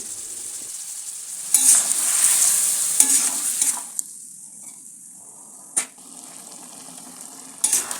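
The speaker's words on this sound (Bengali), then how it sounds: "এবার ম্যারিনেট করে রাখা চিকেনটা এর মধ্যে দিয়ে দিচ্ছি। সবকিছু ভালোভাবে মিশিয়ে নেব।" Marinated chicken frying with whole spices in a pan, loud sizzling that swells as it is stirred, with sharp utensil clinks against the pan at intervals, close and with no voices.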